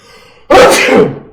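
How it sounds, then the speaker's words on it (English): One loud, close sneeze bursts out abruptly after a brief quiet moment, then trails off. "I sneezed."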